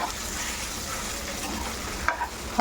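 Grated potato sautéed in hot ghee, a close, steady sizzle with stirring, and a couple of brief scrapes of the spoon near the end.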